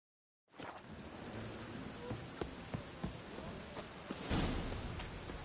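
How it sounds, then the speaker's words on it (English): Steady rain falls outdoors, a dense close hiss of drops with scattered louder taps on surfaces, swelling slightly near the end, with no voices. "Looks like rain."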